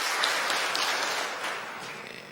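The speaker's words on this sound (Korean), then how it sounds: "여러분들 환영의 박수 부탁드리겠습니다." Church congregation at a Sunday service applauding in welcome, a steady broadband patter of many hands that fades slightly toward the end, fairly quiet and distant.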